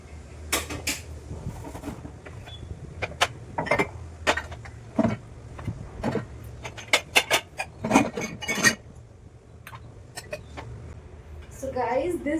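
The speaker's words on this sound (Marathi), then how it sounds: "इथली जी रोजची जी लागणारी भांडी आहेत काचेची, ती मी या बकेटमध्ये जमा करणार आहे" Everyday glass kitchen dishes are gathered into a plastic bucket during a kitchen makeover, giving a run of sharp clinks and clatters at irregular intervals. Someone speaks quietly at times in between.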